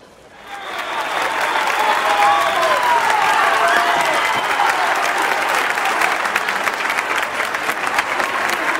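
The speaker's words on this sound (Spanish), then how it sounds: "¡Un fuerte aplauso!" Loud audience applause for a water polo club's representatives at a San Isidro 2020 festival event, swelling in within the first second and then holding as a dense, sustained roar with faint cheering.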